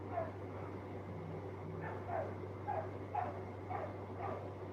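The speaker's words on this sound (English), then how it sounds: "barking and crying. Oh my god, she's a loud husky." A husky barks and whines in short repeated bursts at a moderate distance, outdoors, over a steady low electrical hum.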